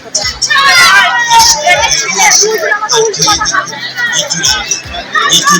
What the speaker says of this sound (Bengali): আজকে ভিড়টা বেশি